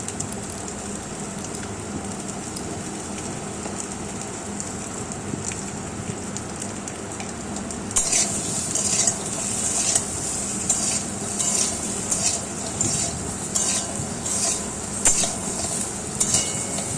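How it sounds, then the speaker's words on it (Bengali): Eggs and potatoes fry with salt in a pan for an egg curry, giving a steady sizzle with stirring that grows louder and more crackly about halfway through, with clinks of a spatula and no talk. "আমি ডিম আলু নুন দিয়ে ভালো করে ভেজে নেব।"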